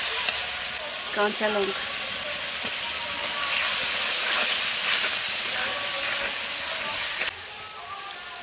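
Mutton curry sizzles loudly in a pan after a splash of water goes in, a steady hissing fry that swells and then drops slightly, with a brief spoken remark near the start.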